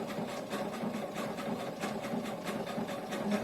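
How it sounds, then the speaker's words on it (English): A sewing machine runs steadily, top-stitching the second row of stitches on a shoulder bag. Its rapid, even mechanical chatter is close and continuous, with no voices. "This is the second row of stitches."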